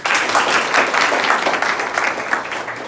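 Schoolchildren at a government high school applaud in a classroom, a dense, steady patter of many hands clapping together at close range, sustained throughout with no talk over it.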